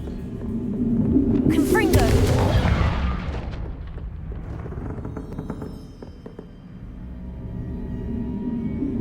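A Confringo fire spell in Hogwarts Legacy bursts as a loud boom with a rumbling tail and crackling debris, fading over several seconds. A low rumble stays underneath, and a voice speaks in the background.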